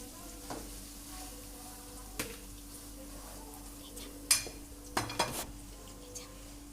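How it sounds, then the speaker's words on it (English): Cooked rice is stirred into sizzling stir-fried seasonings and ingredients for sausage fried rice, with a soft steady fry under sharp spatula scrapes and clanks against the pan at irregular intervals. "put the rice into the seasonings and ingredients that have been stir fried"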